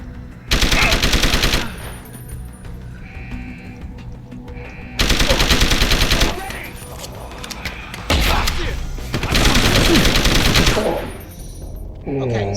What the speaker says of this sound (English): Fire! Shots fired!